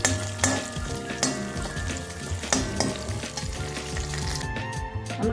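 Tamarind fries in a pan for peanut chutney powder, a busy sizzle with stirring scrapes heard under loud background music.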